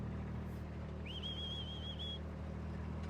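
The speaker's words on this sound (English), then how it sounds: "That's our cattle call here at the ranch." A rancher's whistled cattle call at a cattle ranch, one long wavering high-pitched whistle lasting about a second, clear above a steady low rumble of wind or engine noise outdoors.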